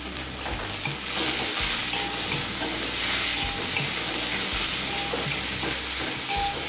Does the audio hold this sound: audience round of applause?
no